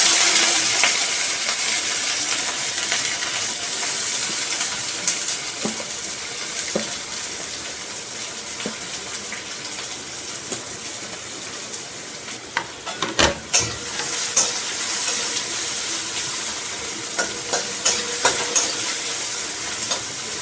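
Onions go into a hot pan and fry with a steady, close sizzle. Metal stirring knocks and clatters join in toward the end, and nobody speaks.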